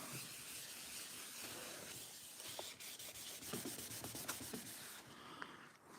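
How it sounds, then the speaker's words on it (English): Wax is buffed onto a wooden piece by hand, a faint, soft, steady rubbing and hiss with a few light scuffs and ticks, close but quiet. "I'm just giving this a buff."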